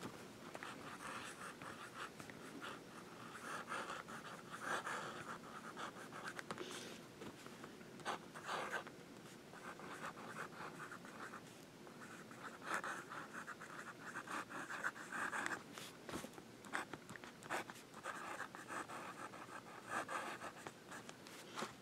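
Conklin Duragraph fountain pen nib laying down Habanero ink on paper, a soft continuous scratching and gliding of strokes close up, steady with small pauses, no talking.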